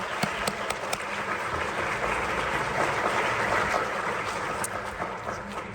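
Audience applause rings out at a 2025 service dog graduation ceremony in Virginia, a dense, steady wash of clapping from a large crowd sustained throughout, with occasional sharper individual claps standing out.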